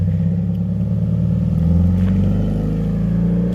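A car with a rear diffuser fitted drives off, its engine a loud, steady low rumble held close throughout with a slight rise in pitch; no talking.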